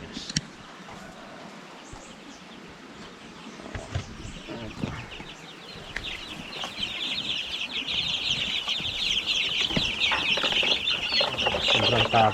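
Dekalb White layer chickens cluck and squawk close by in a flock, the chatter growing louder and denser toward the end, with brief rustling and movement early on.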